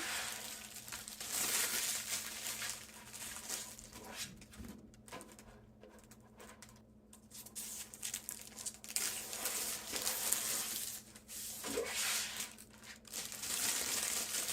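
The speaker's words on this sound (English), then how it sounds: "Next, peel the coating off on both sides of the glass." Protective plastic coating being peeled off both sides of picture-frame glass, a continuous crinkling, crackling rustle with short pauses, close and fairly quiet, no talking.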